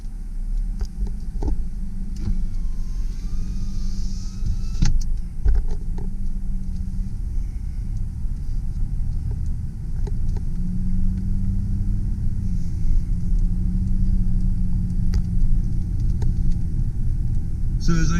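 A 2001 Mazda B4000 SE V6 4WD extended cab pickup idles with a steady low rumble while being shifted into reverse, with a few faint clunks, and someone talks over it.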